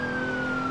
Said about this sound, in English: Now we're hearing the sirens.